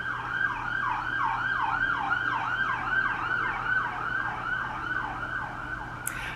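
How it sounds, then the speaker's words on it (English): An ambulance siren wails in a steady repeating up-and-down pattern, loud and close, over a low engine rumble, continuous throughout. "Ambulance coming, hang on."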